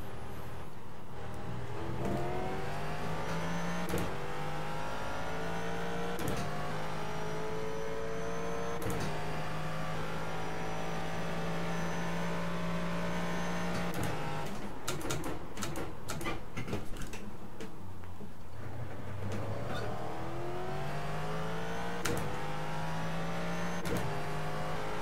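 A Ford GT GT3 race car laps the Circuit of the Americas in iRacing, its engine howling through repeated rising gear sweeps and sharp downshifts, loud and continuous with no talk.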